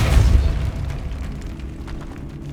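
A Depulso force spell cast in the video game Hogwarts Legacy: a loud, deep booming burst at the start that fades into a low, rumbling tail for a couple of seconds, with no talking.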